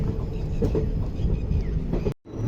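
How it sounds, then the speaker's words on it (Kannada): Train 16545 from Yeshwantpur to Sindhanur rumbles and rattles as it pulls into Sriramanagar halt, a small single-track station among paddy fields, with a sharp dropout near the end. "ಟ್ರೈನ್ ಆಲ್ರೆಡಿ ಶ್ರೀರಾಮನಗರ ಗ್ರಾಮ ಹಾಲ್ಟಿಗೆ ಬಂದೈತಿ"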